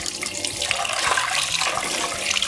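Water gushes steadily from a kitchen tap, a close, continuous hissing splash into a sink.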